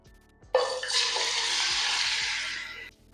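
Chicken pieces dropped into hot oil in a pan with cardamom and crushed onion, giving a sudden loud sizzle that holds steady for over two seconds before stopping, with no talk.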